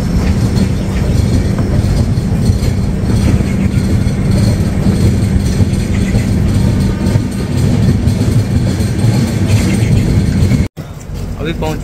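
A passenger train on the Mangaluru Central to Chennai Central route rolls into Avadi railway station, a loud steady rumble and clatter of wheels heard from on board that cuts off abruptly near the end.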